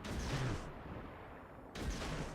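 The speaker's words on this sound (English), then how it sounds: "So as we're closing into torpedo range, we're gonna use the guns on him, of course." Naval guns on a fast warship in a sea battle video game fire at an enemy vessel, two deep booming reports about a second apart, fairly quiet and distant-sounding.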